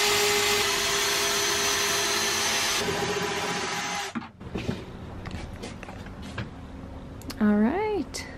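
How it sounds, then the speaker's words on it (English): A drill bores holes into the back of camper van cabinets, a loud steady whine running for about four seconds before cutting out, followed by clattering handling noises and speech. "we are gonna drill a couple of holes in the back for our under cabinet lighting wires to run through"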